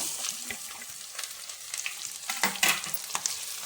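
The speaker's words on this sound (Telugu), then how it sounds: "ఇప్పుడు ఎండు రొయ్యలు బాగా వేగినాయి. వేగిన తర్వాత ఈ ఉల్లిపాయని వేయాలన్నమాట." Dried prawns and onion frying in a pan, a steady close sizzle with crackly spatters and stirring scrapes throughout.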